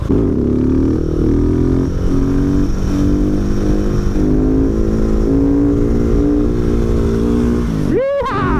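A Husqvarna 701 Supermoto motorcycle rides down a country lane, its single-cylinder engine droning loudly and steadily up close. Near the end the revs rise and fall sharply.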